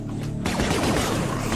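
Plasma gun fire in the Star Wars Death Troopers video game, a burst of rapid electronic shots starting abruptly and running on loudly without talk.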